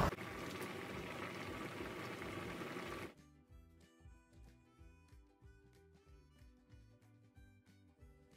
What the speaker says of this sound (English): So my rice has been boiling as well.